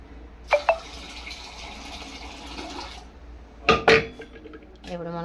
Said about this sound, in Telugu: చూడండి, ఇట్లా పెసరకాయలు అయితే శుభ్రంగా కడిగి పెట్టుకుంటాను